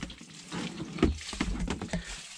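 Gravity-fed water running from a newly opened tap on a farm, an uneven splashing patter with a few louder spurts, close and fairly loud, no voices.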